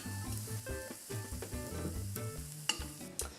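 Croutons frying in a pan of oil and butter, a steady close sizzle with clattering stirring knocks throughout, no voices.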